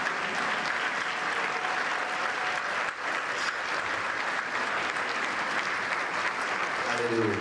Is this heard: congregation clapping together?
yes